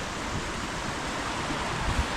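Water rushes in a river running between waterfalls in the Brecon Beacons, a broad, even roar close by with no voices.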